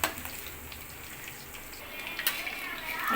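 Pakoras made with bread in the batter frying in hot oil, a continuous close sizzle with light stirring clinks and a brief utensil scrape near the end.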